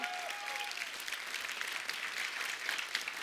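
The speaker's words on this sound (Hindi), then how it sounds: "जोरदार तालियां" A TV show studio audience claps in steady, loud applause that holds at even strength throughout, with a faint crowd murmur under it.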